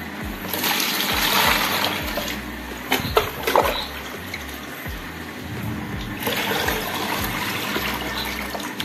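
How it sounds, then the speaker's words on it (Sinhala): Tap water gushes into a basin being filled for breeding glow tetra fish, a steady splashing pour that holds for several seconds, with no voices. "ඉතින් මේ විතර අපි දැන් බේසමට වතුර ටික දා ගන්න ඕනේ."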